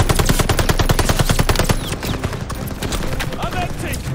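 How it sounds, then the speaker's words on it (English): Rapid machine gun bursts rattle through a Call of Duty: Vanguard firefight, loud and dense for nearly two seconds before settling into continued scattered gunfire and battle noise. "Suppress that MG!"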